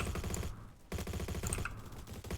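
AS VAL rifle hip-fired in Roblox Bad Business, rapid suppressed automatic bursts of clattering shots with a short pause between two strings of fire, close and loud.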